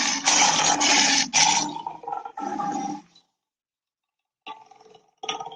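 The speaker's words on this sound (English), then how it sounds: "when a lion roars to let you know they're there" A lion lets out rough, loud roaring bursts, first a long heavy one, then shorter growls, a pause of silence, and two fainter closing grunts.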